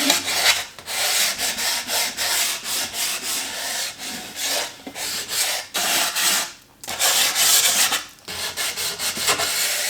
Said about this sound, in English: I'm taking off really what's left of some of the finish on here